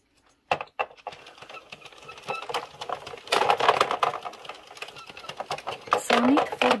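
A circular knitting machine runs rounds for a single-layer knitted hat, giving a steady close mechanical clatter and rattle that grows busier midway, with a voice talking over it.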